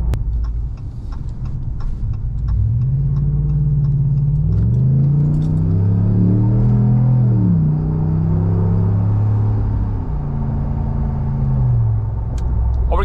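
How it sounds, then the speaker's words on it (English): A Ram Rebel pickup with a V8 rides on 35-inch tires; inside the cab, a steady low road and engine rumble builds as it accelerates onto a highway, with shifting engine tones and small rattles or clicks, no talking. "We're gonna go down and enter the highway and get up to speed so you can hear the noise level inside with the 35 inch tires."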